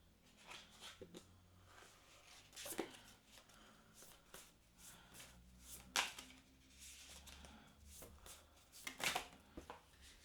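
A deck of tarot-style cards is shuffled by hand in a quiet room, soft riffling and papery slaps coming in irregular bursts, with a few sharper snaps standing out, close and fairly faint.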